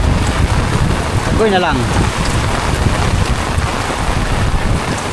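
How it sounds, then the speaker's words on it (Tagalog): Heavy rain and storm wind at night during nighttime fishing, a dense, steady roar of wind buffeting the microphone with driving rain throughout, loud and close, with a brief voice speaking partway through. "Ito, malakas ang ulan. Unos."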